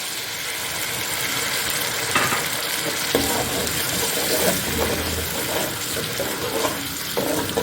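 Tomatoes fry in oil with ginger garlic paste and green chillies for aloo chicken curry, making a continuous loud sizzle with stirring scrapes and occasional clinks from a spoon, close up.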